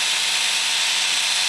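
T-Rex 600 RC helicopter rotor spinning in idle up mode, a steady loud high whirring whine held evenly without breaks, no talk.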